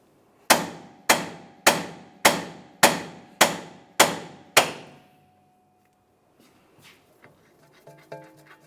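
Eight evenly spaced, ringing metallic strikes of a hammer on a socket set against a Jeep Wrangler steering knuckle, loud and close, followed by quieter clinks and shuffling.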